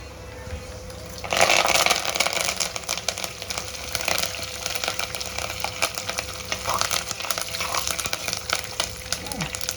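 Cumin seeds, curry leaves and dried red chillies hit hot oil for a ridge gourd curry, bursting into a loud crackling sizzle that keeps popping and spitting steadily, with a faint low hum underneath.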